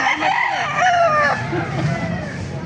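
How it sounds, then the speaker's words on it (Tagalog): A rooster crows loudly nearby, with other chickens clucking and fowl calls layered around it, at a market in Baliuag. "Ay, ganda ng mga manok."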